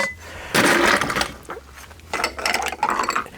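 Ice cubes tumbling into a metal cocktail shaker for a toasted almond cocktail, a close run of clattering, rattling bursts in several uneven pours with brief pauses between, with no talk.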